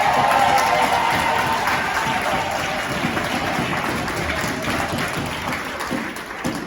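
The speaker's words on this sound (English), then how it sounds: "Thank you for clapping" A crowd applauding a speech by Uganda's Bobi Wine at a gathering in California, loud close clapping with some cheering, strongest at the start and easing slightly over several seconds.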